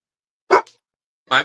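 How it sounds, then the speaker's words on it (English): A dog gives two short, sharp barks about a second apart, fairly close but not loud, with silence around them. "Hey, what are you barking?"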